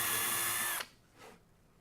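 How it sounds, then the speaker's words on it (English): A power drill runs loud and steady for under a second while boring a hole in wood during a lazy Susan fitting, then cuts off, followed by a short quieter burst. "Now I can drill"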